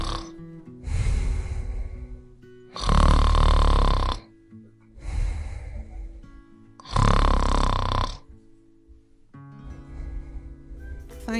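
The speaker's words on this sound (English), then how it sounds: "And the Gruffalo snored and snored and snored." Snoring sound effect for the Gruffalo in a children's story reading: loud, rhythmic rasping snores that alternate heavy and lighter breaths, about six cycles in a row with no talking over them.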